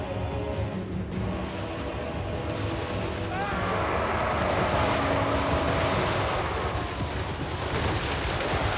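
Musket volleys fire in a Total War: Warhammer 3 battle as rolling, overlapping bursts of gunfire that swell into a dense, continuous roar, with someone talking over them.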